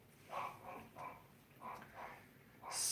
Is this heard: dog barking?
yes